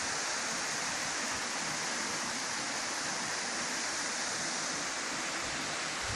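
A waterfall about 35 metres high spills over rock into a valley in Siirt, giving a steady, close, dense roar of falling water that holds unchanged throughout with no voices.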